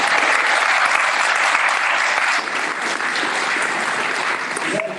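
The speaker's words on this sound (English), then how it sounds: "you can applaud" Church audience at a Sunday service breaking into loud, sustained applause, a thick wall of clapping that eases slightly midway and carries on alone.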